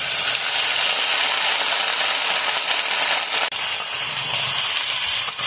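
Thick-cut eggplant pieces go into hot oil and fry with a loud, continuous crackling hiss up close, briefly dipping once before surging on, with no voices.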